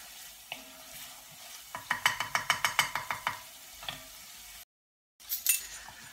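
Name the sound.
curry base sizzling and caramelising in a pan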